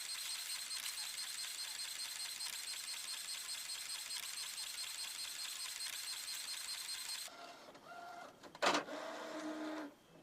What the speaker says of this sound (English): the print that we just sent to the 3800 has been spooled and it's proceeding to print